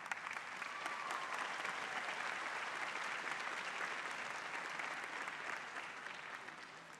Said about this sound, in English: Let's give them all a round of applause, both classes.